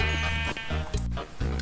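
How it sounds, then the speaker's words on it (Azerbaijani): Minecraft sheep bleat in repeated short, wavering calls, close and fairly loud, with brief pauses between them and no talking. "Buradakı qoyunları öldürək."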